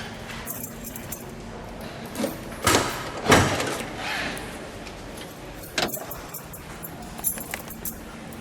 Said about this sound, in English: Let's open that trunk up, please.